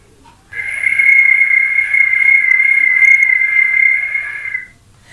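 Rainy-season cricket chirping imitated by a voice: one sustained, shrill, buzzing tone held for about four seconds, loud and close, starting and stopping sharply, with nobody talking over it.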